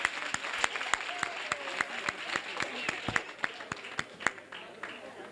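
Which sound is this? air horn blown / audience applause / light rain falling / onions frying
audience applause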